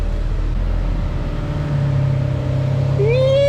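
A Honda CRX with a junkyard K24A2 engine swap runs on a dyno. The exhaust rumbles deep and loud with a steady tone, then rises into a quick rev near the end.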